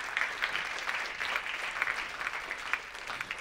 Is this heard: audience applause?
yes